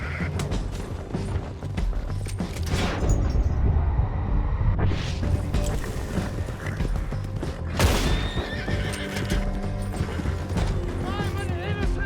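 Horse neighing and whinnying with clip-clopping hooves in the Western video game Red Dead Redemption II, loud whinnies rising over a steady rumbling game soundscape and scattered voices.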